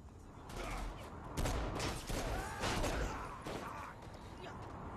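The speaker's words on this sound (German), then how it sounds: "warum schießen die auf uns?" Bursts of gunfire from a Saints Row 4 shootout with police, repeated loud shots over dense game noise and voices talking.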